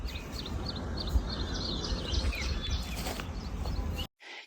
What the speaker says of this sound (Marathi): ह्यो पक्ष्यांचा किलबिलाट आणि असला आवाज का नाही फक्त बघा गावाकडेच ऐकाय भेटतोय